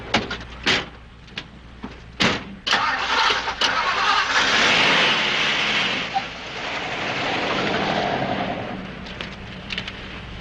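Radio drama sound effect of a car door closing, the engine starting, then revving steadily as the car drives off, loud and close with a few sharp clunks at the start.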